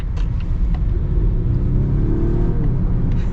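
2024 Volvo XC60 Recharge hybrid accelerating in power mode, a steady low rumble from inside the cabin with a rising engine and motor whir that climbs smoothly throughout and has no talk over it.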